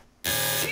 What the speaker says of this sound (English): Alarm activated.